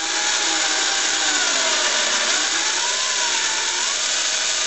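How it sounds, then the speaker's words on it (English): A power drill with an 8 mm bit whines loudly and steadily at close range, its pitch wavering slightly as it works through the center of a plastic USB connector. "Now use a drill bit of 8 mm and drill the center of the connector."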